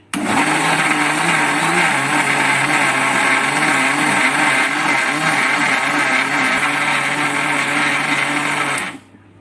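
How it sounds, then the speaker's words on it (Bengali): A mixer grinder blends batter for bay leaf pitha with a loud, steady motor whir close by. It runs without pause for about nine seconds, then cuts off. "এবারে মিক্সিতে ভালো করে ঘুরিয়ে নেব দু থেকে তিন মিনিট"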